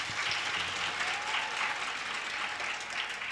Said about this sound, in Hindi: चलिए एक बार ताली बजा दिया जाए।